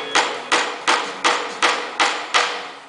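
Small 1-inch pieces being hammered into place on a line during a 1966 Ohio license plate restoration, with six evenly spaced, sharp, loud hammer blows at a steady rhythm, each ringing briefly.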